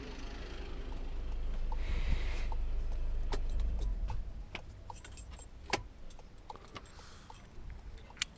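Keys jangle and clink in several short metallic bursts after the low rumbling engine of a 2018 Volkswagen Golf Mk7 GTD idles and cuts out.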